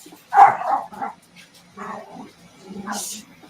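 Dogs bark and yip as they come down a flight of stairs indoors, several close, sharp bursts followed by short whimpering cries.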